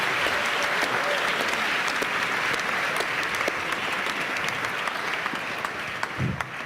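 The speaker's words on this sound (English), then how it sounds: "give an applause to Jimmy" A conference audience in a large hall applauds steadily at moderate volume, a dense and even wash of clapping that continues throughout.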